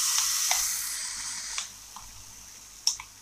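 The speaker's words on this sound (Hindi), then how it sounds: "गैस सिम कर देंगे और ये बैटर को डालेंगे।" Semolina batter hits a ghee-greased pan on low heat, giving a bright sizzle that fades over a few seconds, with a couple of light clicks and taps.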